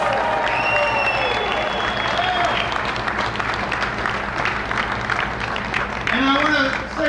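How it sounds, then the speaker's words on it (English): A rally crowd of building trade union members claps and cheers in a sustained, loud wave of applause, with voices calling out among the clapping. "Let's give them a round of applause."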